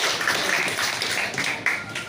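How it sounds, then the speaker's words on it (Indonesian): An audience claps for a regional official, the Bupati of Aceh Tamiang, at an Indonesian gathering. The clapping is loose, busy and continuous for about two seconds at moderate volume. "beri tepuk tangan yang sama meriah untuk Bapak Bupati Aceh Tamiang"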